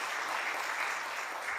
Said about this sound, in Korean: 우리 한번 박수 한번 쳐드리자고요